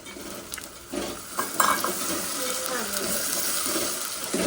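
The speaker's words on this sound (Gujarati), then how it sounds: "પેલું ડાયરેક્ટ પાણી રેડી દેવાનું." Water poured straight into a hot pan of flour, hissing and sizzling steadily at close range with clinks of stirring and a brief louder burst of steam partway through.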